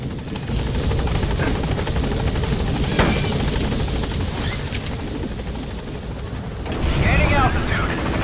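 Steady, loud rotor chop and engine whine fill the air as the Pequod helicopter lifts off in Metal Gear Solid V, swelling toward the end, with a voice speaking over the noise.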